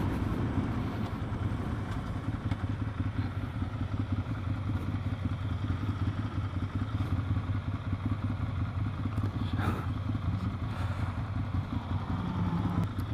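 A motorcycle rumbling past on the road, a continuous loud low engine drone with road and wind noise throughout and a slight rise in the middle, no talking.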